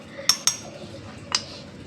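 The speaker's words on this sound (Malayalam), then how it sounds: "ചൂടാറിയ ശേഷം നമുക്ക് മിക്സിയിലെ ജാറിലേക്ക് മാറ്റി കൊടുക്കാം." Metal spoon clinks against a mixer jar three times as a cooked chutney mixture for Kerala-style chammanthi is transferred into it, two quick knocks followed by a third after a pause, close and clear.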